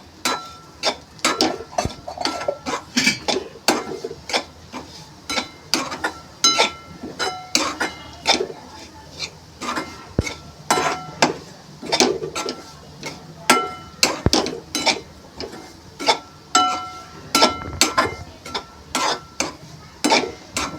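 A spoon clacks and scrapes rhythmically against a pan while semolina roasts in ghee, dozens of close, crisp strokes repeating steadily throughout with only a faint background hum.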